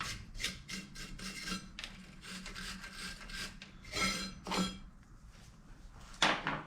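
Loose debris being wiped out of the rear brake drum of a 2010 Vauxhall Corsa SXi 1.2 petrol, a quiet, close scrubbing and rubbing in irregular bursts with a few brief scrapes, heard alone.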